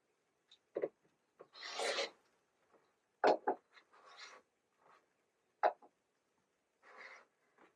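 Quilt fabric trimmed to 3.5 inches, heard as short, crisp cutting and rasping strokes in scattered bursts with silence between them, close and quiet.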